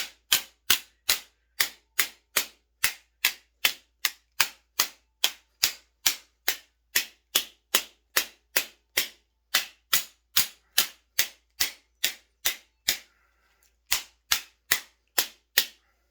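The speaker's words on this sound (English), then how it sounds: "we're just going to simulate a drop with a rubber mallet and the handgun" A rubber mallet strikes a Taurus GX4 handgun again and again to simulate a drop, landing as sharp, loud knocks in a steady fast rhythm with one short pause near the end.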